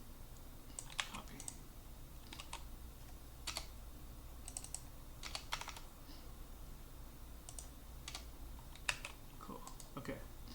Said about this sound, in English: We can type that out real quick.